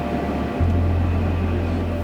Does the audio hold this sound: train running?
yes